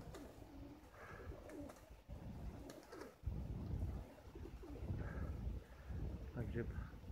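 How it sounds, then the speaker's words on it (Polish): Pigeons at a racing pigeon loft coo softly and repeatedly, low murmuring calls set against light wind noise, with a person talking over them throughout. "Czyli widzimy gołębie"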